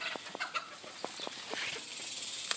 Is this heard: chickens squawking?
yes